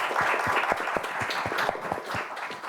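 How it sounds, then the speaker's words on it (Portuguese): Audience applause at a panel discussion on innovation and property rights, a fairly small group clapping at close range with distinct individual hand claps in an uneven rhythm, loud and continuous before tapering slightly at the end. "Peço uma salva de palmas"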